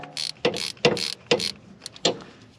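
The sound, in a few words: small ratchet loosening a 10mm coil bolt on Honda Fit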